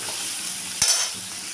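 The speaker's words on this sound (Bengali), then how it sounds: "সেই মাছটা আমি এটার মধ্যে দিয়ে দেব। দিয়ে গ্যাসের ফ্লেমটাকে লো করে দিয়ে একটু ভেজে নেব।" Spiced tengra fish frying in a pan over a low gas flame, a steady soft sizzle with one brief louder stir or scrape partway through.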